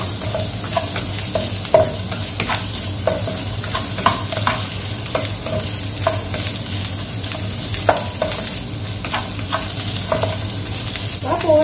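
Chicken for lumpiang gulay fries in a pan, giving a steady sizzle with repeated scraping strokes of a utensil at a fairly even rhythm, and no one talks over it.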